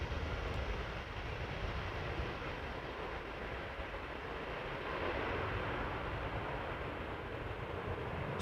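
An Airbus A319 jet departs Amsterdam Schiphol on a crosswindy day, its loud, crude engine roar a steady broadband rumble that holds evenly throughout with no talk.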